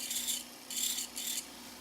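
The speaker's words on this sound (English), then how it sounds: "I'm going around with a sanding disc first of all." A sanding disc cleaning up silver filigree on a handmade pendant, heard as short, soft bursts of rasping abrasion, three passes separated by brief pauses, close and quiet.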